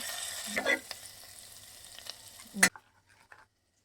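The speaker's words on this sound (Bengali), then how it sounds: "এবার আমি দিয়ে দেবো কেটে রাখা রসুন কেটে রাখা আদা" Chopped garlic and ginger hit butter and a little white oil in a pan, giving quiet, brief sizzling bursts with a short scrape of stirring, then fading to near silence.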